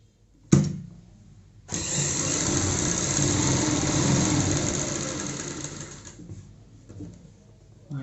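A sewing machine stitching a narrow belt strip for a child's frock, a close, steady whirring hum running for about four seconds after a short click, then fading out.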